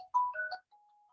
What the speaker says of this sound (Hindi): सर के फोन ही आ जा रहे हैं क्या